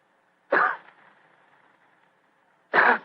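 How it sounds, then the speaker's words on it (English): Two short throat-clearing coughs, separated by about two seconds of quiet, close and moderately loud, with faint background hum between them. "he gave what he thought was a discreet cough"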